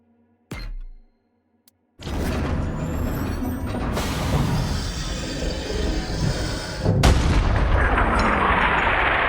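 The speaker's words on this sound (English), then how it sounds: "Load up the cannon so we can savor the sweet taste of vengeance." Cannon in Borderlands 3 fires with a heavy, sustained booming blast that rumbles loudly for several seconds, followed by a second sharp impact near the end, preceded by a brief short thump.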